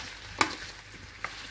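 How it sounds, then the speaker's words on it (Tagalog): Apples and butter in a frying pan under a low sizzle, with two sharp utensil clinks against the pan a moment apart as they are stirred, close and fairly quiet. "haluin na natin para ang butter, magkapareha ang portion nila."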